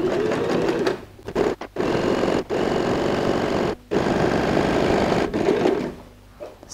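A sewing machine stitching the bottom seam of a pleated fabric handbag and its lining, running in several loud, close bursts separated by brief pauses, with no talking.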